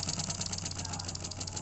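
Lego pneumatic engine running as slowly as it can, giving a steady air hiss with a low, even hum and a faint rhythmic pulsing, close and continuous.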